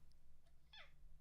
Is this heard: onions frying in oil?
no